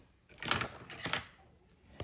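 Thick scrapbook paper is trimmed freehand for a layout, giving two close, crisp cutting crunches followed by a faint click, with no talking.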